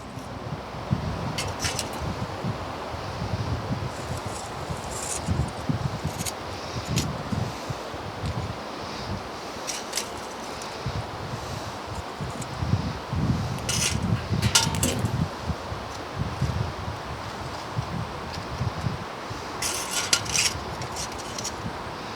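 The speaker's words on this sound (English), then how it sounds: "the wind is actually giving it a little blast there to keep it going" Outdoor wind buffets a microphone beside an electric smoker used for beef jerky, a rough continuous rumble with gusts and occasional metallic ticks and rustles, no talking.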